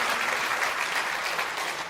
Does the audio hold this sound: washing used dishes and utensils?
no